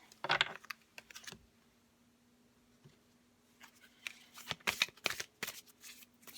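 Oracle cards are shuffled nearby in quick riffling bursts: one flurry of crisp flicks, a quiet pause, then a longer run of rapid clicking shuffles, with no voice.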